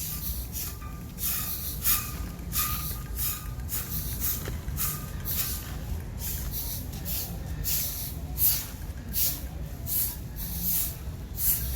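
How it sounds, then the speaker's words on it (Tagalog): Steady scratchy sweeping of bristles across the ground, rhythmic brushing strokes over a constant hissy background, fairly close. "Nakaka-relax yung tunog ng pagwawalis."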